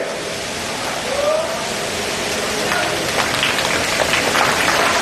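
A group of children claps at a Shaheed Bhagat Singh Jayanti program in Sirsa, making a loud, steady wash of applause that lasts throughout without pause.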